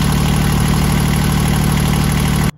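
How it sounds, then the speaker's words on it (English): A Yanmar 3GM30F marine diesel engine idling while warming its oil, a steady loud rhythmic chugging drone close by that cuts off at the end, no talk. "the only way to make that happen is to run the engine until the oil gets hot"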